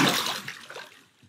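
In the Minecraft 1.19 video game, a single splash lands in water, starting as a bright burst and fading into short, trickling liquid sounds over about a second.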